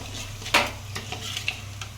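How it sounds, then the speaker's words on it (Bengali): Whole spices in hot oil: bay leaf, dried red chilli, crushed cinnamon and cardamom, crackling in a kadai with a low steady sizzle, a sharp pop near the start and scattered fainter crackles, close by, no voices. "কড়ার তেল গরম হয়ে গেছে, তেজপাতা, শুকনো লঙ্কা আর দারচিনি এলাচটা থেতো করে দিয়ে দিয়েছে।"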